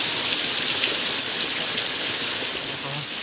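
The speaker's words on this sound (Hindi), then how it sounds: "बहुत पूरा बहुत वर्षा है" Heavy rain pours steadily outside a home, a loud, even hiss of drops on surfaces lasting throughout without a break.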